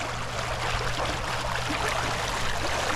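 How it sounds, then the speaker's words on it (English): Continuous churning and gurgling of pond water stirred by a Kasco de-icer under a dock, a steady close wash of moving water with a faint low hum beneath. "it's still putting some ripple current out that way."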